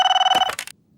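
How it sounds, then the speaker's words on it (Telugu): A telephone rings with a bright electronic trill for under a second, then cuts off abruptly into near silence. "ఫోన్ తీ."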